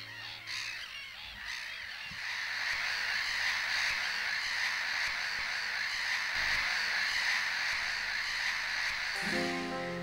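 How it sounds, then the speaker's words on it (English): A dense colony of seabirds calls on the islets of Hirtshalmen, a continuous chorus of overlapping harsh cries and caws filling the air at a steady level, with wind noise underneath. "it is very obvious that Hirtshalmen now belongs to the seabirds"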